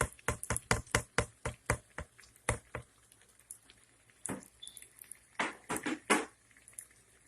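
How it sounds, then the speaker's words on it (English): Potatoes tumbling into a cooking pot, a quick run of close, hard knocks and thuds at first, then scattered heavier clunks and slides, with no voices. "I dump those potatoes right in there."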